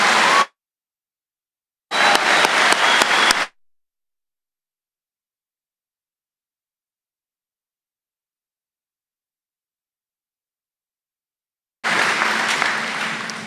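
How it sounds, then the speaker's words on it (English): Applause for the 2019 graduating class at a Muskego High School graduation ceremony: a brief burst, a second clapping spell, then after a long silence another sustained round of dense crowd clapping in a large hall. "Would all seated please once again join me in offering a resounding round of applause in support of this class."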